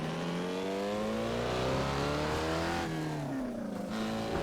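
Classic Datsun 240Z engine in Assetto Corsa revving hard, rising and falling pitch sweeps from a loud, close exhaust with no talk.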